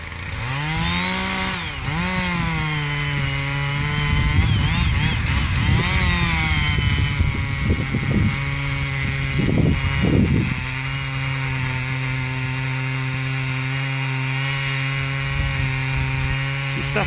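A big Stihl 076 chainsaw with a 48-inch bar roars close by while cutting into an oak tree, its engine rising and falling under load before settling into a steady high idle.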